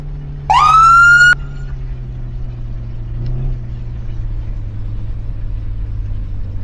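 A London ambulance in the game Flashing Lights gives a short rising siren whoop that cuts off within a second, then a low steady engine drone carries on beneath.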